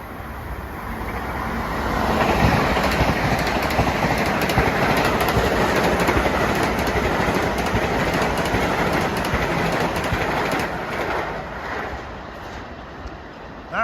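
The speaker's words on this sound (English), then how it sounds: "here comes a train prior to February 27th you wouldn't have seen going through here" A Long Island Rail Road commuter train passes through Forest Hills station during the evening rush, a steady loud rumble and rolling clatter of railcars that builds over the first seconds and holds, with no talking.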